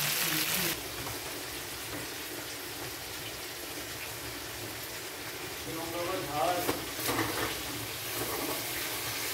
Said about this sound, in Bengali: দেখি কীভাবে ফাটছে মাছগুলো